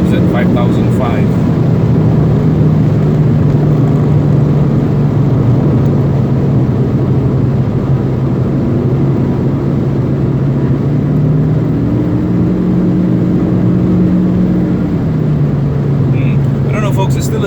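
A 2019 Proton Persona 1.6 car's engine drones steadily inside the cabin while driving, a loud, constant low hum that rises slightly in pitch partway through, with road noise underneath.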